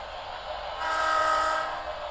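A CSX model train running on an outdoor sundeck layout, a steady rolling hum with a tonal whistle-like sound swelling briefly in the middle, close and fairly loud.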